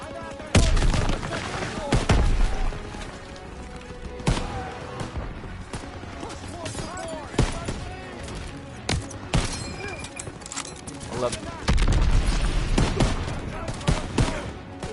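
Grenade blast and bursts of rifle and machine-gun fire in the World War II shooter Call of Duty WW2, loud sharp shots and booming thuds scattered throughout a chaotic battle, with someone talking over parts of it.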